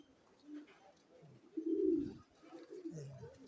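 A king pigeon gives soft, low cooing calls, one fuller coo in the middle and quieter murmurs around it, close and fairly faint.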